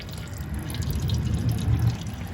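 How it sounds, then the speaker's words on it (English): Coolant draining from the radiator plug of a Toyota Tacoma V6, a steady close trickle and splatter of liquid running continuously throughout. "You twist that plug, that one right there, you twist it, and then the liquid starts coming out"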